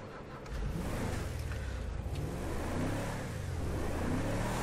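A 2019 Ram truck with stock exhaust revs in GTA 5, a steady, loud engine drone that rises and falls in pitch through a few throttle swells. No one talks.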